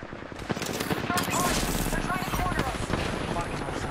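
Rapid gunfire bursts crackle in an online ranked video game match, dense and continuous amid a noisy battle background while players talk over it.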